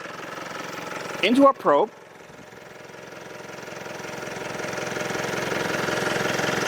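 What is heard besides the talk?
car engine idling, exhaust fed into probe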